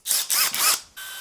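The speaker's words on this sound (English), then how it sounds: "we are going to drill" A power drill whirs in several short high-pitched bursts close to the microphone, with brief pauses between them, during a DIY bedroom loft build.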